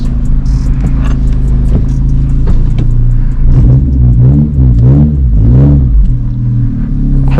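A 10th-gen Honda Civic Si running on E85 idles steadily with a low, continuous engine rumble throughout, a few slight rises in pitch suggesting light revving midway, close by with no talking.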